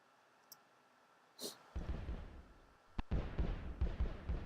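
A Minecraft TNT cannon fires at a wall in a video game: a brief hiss, then a deep rumbling blast, followed by a second sharp crack and a rolling barrage of explosions.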